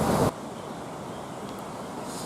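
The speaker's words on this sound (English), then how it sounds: "Yeah, a bit windy today down here." Steady wind blows by a mountain lake near a main road, a constant broadband rush with a sharper buffet at the very start, close and fairly loud throughout with no talking.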